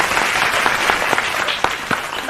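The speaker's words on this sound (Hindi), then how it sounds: "तालियों से स्वागत" A crowd at a village election campaign rally applauds with steady, fairly loud clapping throughout, dense and continuous like a room full of people welcoming someone.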